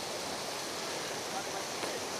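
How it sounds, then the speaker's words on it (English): A small waterfall in the Lake District rushes continuously, a soft, even hiss of falling water heard faintly without any other sounds. "Beautiful little waterfall"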